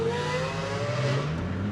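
Lamborghini Aventador supercar pulling away at a hypercar gathering by the Mediterranean Sea in Croatia, its loud V12 engine roaring steadily with rising harmonic tones, close and continuous throughout.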